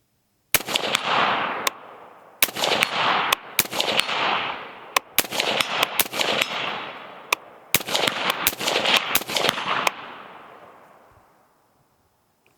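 Rifle shots fired at a target at 100 yards, about a dozen sharp cracks in irregular groups, each with a long rolling echo tail that fades into quiet.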